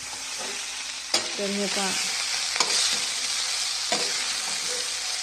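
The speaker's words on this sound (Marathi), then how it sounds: "कांदा, मिरची, हळद, जिरे, मोहरी, शेंगदाणे टाकून मस्त परतून घेतलंय आणि त्याच्यामध्ये पोहे टाकलेत" Poha tossed and stirred in a pan of tempering with onion, chilli, turmeric, cumin, mustard seeds and peanuts, giving a steady close sizzle with sharp spoon scrapes against the pan, while a voice talks briefly over it.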